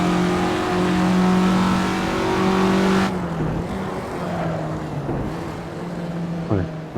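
A Classic Formula Ford race car engine in Assetto Corsa, racing at Donington, holds a loud, steady high note, then falls off abruptly to a lower, rougher hum with small revs and a brief pitch rise near the end, with speech over the engine.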